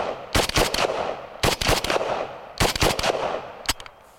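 A Romanian WASR 10/63 AK-47 rifle fires outdoors in three quick, sharp bursts of several shots each, then a final short pair. Each crack is loud and close.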